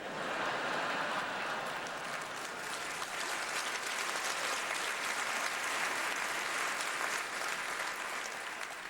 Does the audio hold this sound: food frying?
no